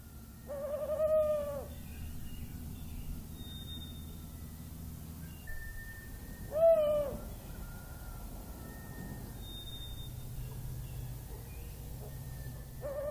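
Owls call at night in a Korean forest, two distinct hooting calls spaced several seconds apart, moderately loud against a steady low background hum, with no voices.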